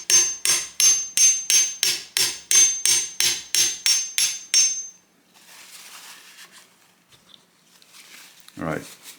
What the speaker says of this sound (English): you can use hammer and gently persuade it to go down